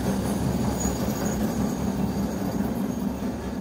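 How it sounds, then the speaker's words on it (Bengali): Four trains rumble past together on parallel railway lines, a steady, loud, dense roar of wheels and carriages that holds constant without a break. "একসঙ্গেই 4খানা ট্রেন চলে গেল"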